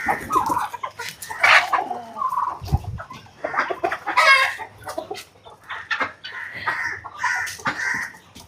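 Chickens cluck loudly and close by near a chicken coop on a farm, with busy overlapping calls, short squawks and occasional crowing-like cries continuing throughout, without talk.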